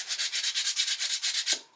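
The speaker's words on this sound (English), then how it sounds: "I'm sanding my stocking" A stocking is sanded by hand in quick, even back-and-forth strokes, about a dozen scratchy rubs in a steady rhythm close up, ending with a small knock as the motion stops.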